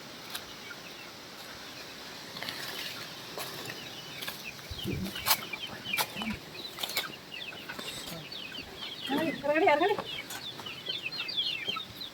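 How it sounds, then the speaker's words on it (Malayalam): Young chickens cluck softly nearby over a quiet outdoor background, with a livelier burst of clucking and wing flutter near the end. "നമ്മുടെ കോഴിപ്പിള്ളേരെല്ലാം വലുതായിട്ടുണ്ട് നമുക്ക് പോയി നോക്കാവേ"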